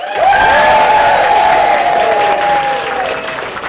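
Loud, sustained applause from a theatre audience at a Shakespeare improv show, mixed with a drawn-out cheer or whoop that rings over the dense clapping before slowly fading.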